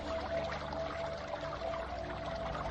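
Steady bubbling, gurgling water fills the background as a sound effect in a Dante's Inferno radio drama, a dense continuous wash with no voices over it.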